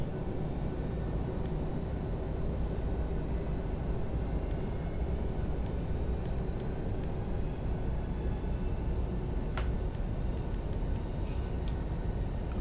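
Steady, unbroken engine roar and broadband hum of a Boeing 737 taxiing in Flight Simulator X, constant in level throughout with no distinct events.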